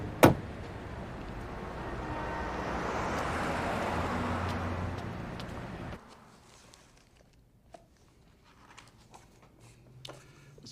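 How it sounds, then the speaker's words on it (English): A chauffeur-driven car rumbles with road noise that swells and then abruptly drops away as it halts, leaving near silence broken by a few faint clicks and small handling sounds. "Driver, stop the car, please."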